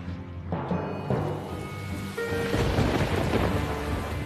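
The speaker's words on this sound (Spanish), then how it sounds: "Una noche de tormenta pone a prueba su teoría y el desagüe que todavía funciona." Over the Colosseum, a thunderstorm pours heavy rain in a dense, steady wash while low rumbles of thunder roll beneath it, swelling louder toward the end.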